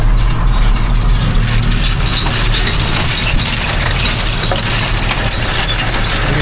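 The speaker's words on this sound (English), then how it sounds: "coming through and mowing all the weeds off" A mower cutting through weeds in a garden bed: a loud, continuous mechanical churning and rattling with a heavy low rumble that holds steady throughout, and no voices.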